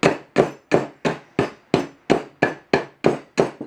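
Eleven sharp metallic strikes in a steady, even rhythm, a hammer hitting a chisel up close during a Datsun 521 ball joint modification, each blow ringing briefly before the next.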